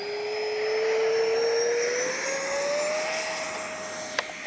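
An H-King Flycat V2 RC jet flies past outdoors, its turbine a steady high whine that rises slowly in pitch, with a couple of brief clicks near the end and no one speaking.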